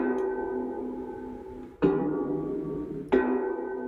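Slowed-down statue recording played through the Alchemy sampler in Logic Pro X: a dense, low droning texture with rich stacked harmonics, punctuated by two sharp swelling attacks at regular intervals, with no voices.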